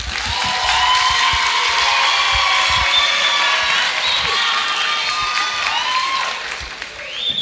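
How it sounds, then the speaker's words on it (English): Applause from an audience at the close of a debate, steady and fairly loud throughout with crowd murmur and a few cheers mixed in, with no clear speech over it. "Can we give a round of applause for our winners?"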